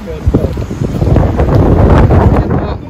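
Strong seaside wind buffeting the microphone at a Crimean resort, a steady roaring rumble with gusty swells throughout, loud and close.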